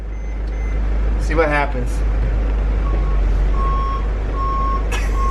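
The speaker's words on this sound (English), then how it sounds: "We've got the freaking beep, like a trash truck coming back" Reverse backup beeper on a long Sprinter van, a steady series of evenly spaced single beeps repeating at moderate distance over a low engine rumble, with someone talking briefly near the start.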